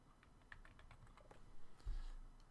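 Keys tapped on a computer keyboard in quick, uneven bursts of close, light clicks, typing a single word with no talking.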